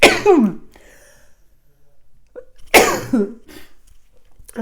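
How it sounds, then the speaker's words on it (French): A close, sharp human sneeze, then a second explosive sneeze a couple of seconds later, with quiet breathing between. "Excusez-moi, je vais éternuer."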